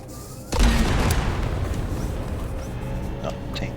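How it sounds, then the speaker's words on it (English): Tank cannons fire from a transforming mech in a video game. A heavy booming blast hits suddenly after half a second and leaves a long rumbling roar that slowly decays. "Oh, tank cannons."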